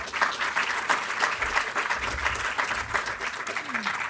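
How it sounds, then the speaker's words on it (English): Audience applause at the Playing for the Planet Green Games Summit and Awards as a speaker is welcomed on stage; a sustained, dense wash of many hands clapping, fairly loud and even, with faint voices underneath. "So please give her a round of applause."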